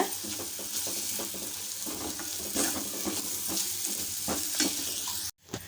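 Urad dal sautés over a medium flame with a continuous close sizzle. Repeated spoon strokes scrape and clatter against the pan, there are no voices, and a short gap of silence falls near the end.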